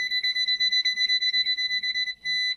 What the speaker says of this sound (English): Beep for continuity